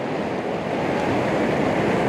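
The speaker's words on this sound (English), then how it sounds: "We've got some nice waves coming in." Waves breaking on a Northumberland beach, a continuous loud wash of surf close by with wind noise buffeting the microphone and no talk.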